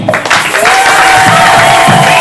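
Audience applauding at a Christmas gathering with children, a steady wash of clapping filling the whole short stretch, loud and close, with a faint sustained tone running beneath it.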